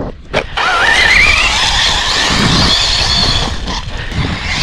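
Arrma Typhon 6s BLX brushless RC car racing loud and close, its high-pitched motor whine rising over a broad rushing roar of tires skidding and churning across the ground.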